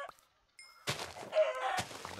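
Chickens cluck in a video game, short faint clucks and a crowing-like call mixed with a thunk and brief chime, quiet and close.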